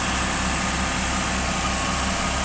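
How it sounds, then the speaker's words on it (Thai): A vehicle engine idles steadily just after starting on a replaced battery, with a constant low rumble and a faint rhythmic throb, no voices present. "เครื่องยนต์ดังขึ้นมาแล้ว"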